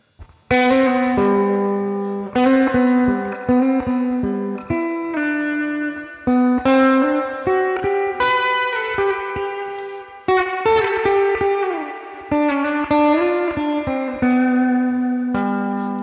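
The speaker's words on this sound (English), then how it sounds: "I believe there's a Fender Spring Reverb" Electric guitar through a Fender spring reverb in Amplitube's Fender Champion 600 amp model, playing chords and single notes, drenched in splashy spring reverb with long wet tails, fairly loud and steady throughout.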